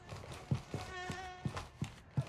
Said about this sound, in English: I hear footsteps to the left.